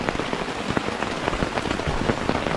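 Dense, heavy rain pouring and drumming on a surface at a campsite, constant and close with no pauses.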